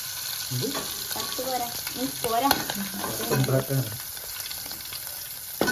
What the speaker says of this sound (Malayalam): നമുക്കിത് ജസ്റ്റ് ഷാലോ ഫ്രൈ ആയിട്ടുണ്ട് നമുക്കിത് വറുത്ത് ഉണ്ടാക്കാം